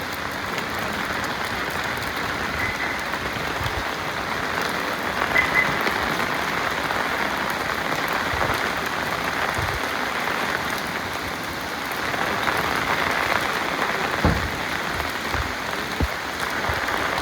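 Heavy rain comes down on a flooded road in Talegaon, a continuous wide hiss of drops that swells slightly at moments and carries a few sharper splashes, with no talking.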